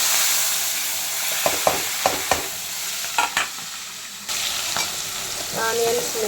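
Chopped onions and green chillies hit hot oil already holding whole spices in a pan, giving a steady close sizzle with a few spatula knocks that swells louder partway through.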